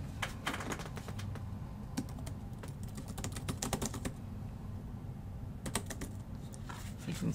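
Bursts of quick clicky typing on a Brydge C-Type wireless keyboard with hard plastic keys, close and crisp, with a short pause in the middle before the tapping resumes.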